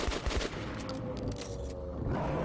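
Shotgun fire in the video game Metro Last Light: a few quick, close shots at the start, followed by a quieter stretch of game noise and reverberation.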